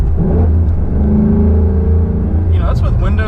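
Loud, steady engine drone from a Corsa Xtreme catback exhaust fills the cabin with the windows up, rising slightly as the car accelerates while someone talks over it.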